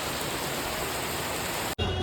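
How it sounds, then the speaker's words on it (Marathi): Heavy rain pours down in a loud, steady broadband roar during an outing for a Ganpati arrival procession in Kalachowki, with an abrupt break just before the end and no voices. "आणि पाऊस भरपूर जोरात आहे, भरपूर जोरात आहे भावाने."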